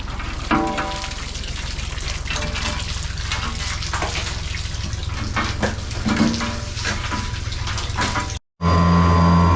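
Steady loud rush of water from a water pump running continuously, with a hum underneath; it cuts out briefly near the end, then resumes with a strong droning tone.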